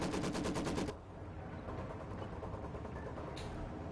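Maxim machine gun in Company of Heroes 2 firing a loud, rapid burst of evenly spaced shots that cuts off after about a second, followed by quieter battlefield noise.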